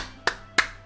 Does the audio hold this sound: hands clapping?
yes